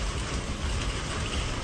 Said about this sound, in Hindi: ओले पड़ने लगे, ओले मोटे मोटे ओले,